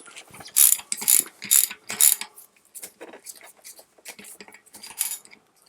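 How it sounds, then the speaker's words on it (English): Ratcheting metallic clicks as a 10mm Allen wrench works on a Shimano Deore FH-M525 freehub body to loosen it, a close series of sharp, rhythmic ratchet bursts that thin into lighter, scattered clicks and knocks. "Using our 10mm Allen wrench, we're going to go into the Freehub and break this thing free."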